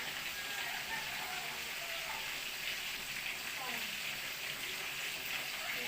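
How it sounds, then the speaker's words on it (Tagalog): Steady hissing sizzle of tulingan (bullet tuna) frying in a pan, soft and constant, with faint background noise. "Ayun sa kabila, nagpiprito ako ng tulingan"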